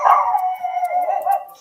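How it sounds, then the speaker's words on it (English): A pug barks and howls in one drawn-out, wavering vocal burst, close and fairly loud, with no talking. "woman introduces her new doll to her cute little pug named Augie"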